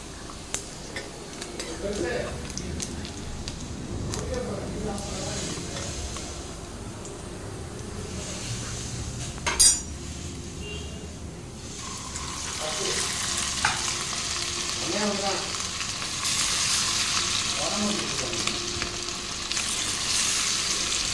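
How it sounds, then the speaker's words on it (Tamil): Chicken deep-frying in oil for hotel-style fried rice, a continuous broad sizzle with occasional stirring, utensil clinks and one sharp metallic scrape, the frying growing louder and brighter toward the end. "அதையும் நம்ம இந்த எண்ணெயிலே போட்டு பொரித்து எடுத்து வச்சிடலாம்"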